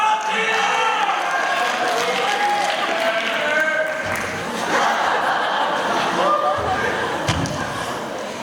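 Large crowd cheering in a big arena, a loud continuous roar of voices with scattered shouts and thumps, people talking over it.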